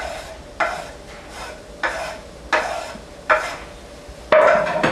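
Chopped onion and garlic sizzle in a cast iron pan, with about six sharp stirring scrapes at a regular rhythm over a steady frying hiss, close and fairly loud, no voices.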